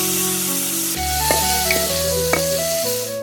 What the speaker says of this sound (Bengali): মাংস রান্নায় যেসব মশলা ব্যবহার করা হয় সেসব দিয়েই কষিয়ে তেলে ভাজা হয় ঘুগরা